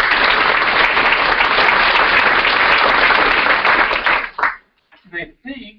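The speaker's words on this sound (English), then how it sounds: "I think we all owe each other a round of applause." A crowd at a realtors' general membership meeting claps steadily for about four seconds, loud and dense, then the applause cuts off and a voice speaks briefly over a few trailing claps.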